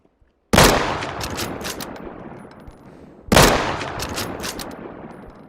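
Two loud, sharp gunshots in the survival shooter Deadside ring out about three seconds apart, each trailing off in a long echoing tail.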